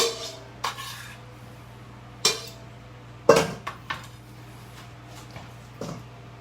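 Avocado going into a mixing bowl, followed by a few separate clinks and knocks of dishes and utensils, spaced apart over a low steady hum, near and fairly quiet, with no talking.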